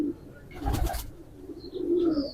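A prized pigeon coos in a dim loft, a low throaty call heard close and alone, with a brief rustle of wings partway through.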